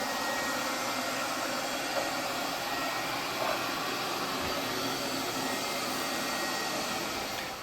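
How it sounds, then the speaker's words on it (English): A LeFant robot vacuum runs on hardwood and tile floors, giving off a steady, fairly close whirring hum with a hissing airflow tone throughout, no voices. "So when this vacuum finishes cleaning, it will automatically go back home and charge."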